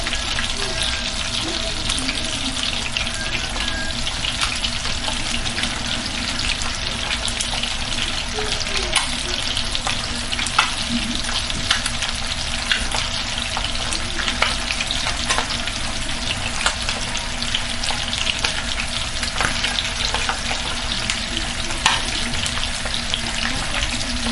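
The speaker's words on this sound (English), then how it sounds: "we're gonna add some onions to that fish sauce" Chopped onions fry in fish sauce in a pot, the first step of jollof rice. A loud, steady crackling sizzle runs the whole time with a few faint stirring sounds and a voice murmuring in the background.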